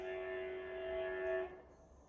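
A train passes at a distance, giving a faint, steady droning tone for about a second and a half before it cuts away to quiet background noise.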